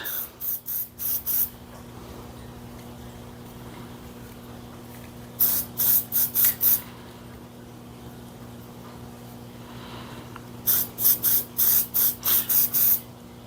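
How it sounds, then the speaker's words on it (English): Copper gasket sealant hisses from an aerosol can onto a snowblower gasket in three separate clusters of short, close spray bursts, with a steady low hum underneath and quiet gaps between the clusters. "Let's take and spray this down like so."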